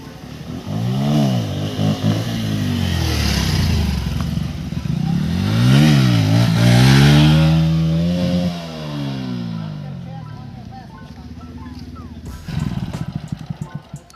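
A motorcycle exhaust is revved hard at full throttle during a group ride, rising and falling in loud, sweeping roars close by, then fading to a rattling idle.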